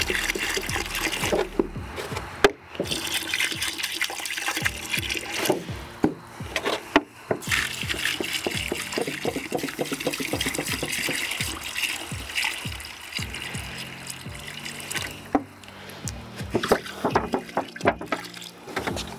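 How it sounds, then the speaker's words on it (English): Water glugs and splashes from a gallon jug into buckets for mixing mortar, a steady close pour broken by sharp knocks and clunks of the containers. "we'll take our gallon of water, pour half a gallon in each bucket"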